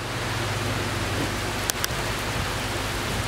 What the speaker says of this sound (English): Yep, it started raining.